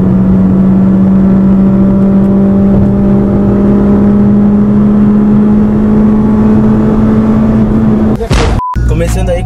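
A 2014 Mitsubishi Lancer 2.0 with manual gearbox holds a loud, steady high-rpm drone at the rev limiter for several seconds, then the revs drop abruptly and the engine cuts out near the end.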